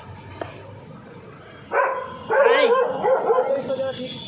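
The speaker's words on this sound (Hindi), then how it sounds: "भौंकने की जरूरत नहीं है, बदतमीज" A puppy yips and whimpers near the microphone in a series of short, high barks, while a person's voice is heard over low background noise.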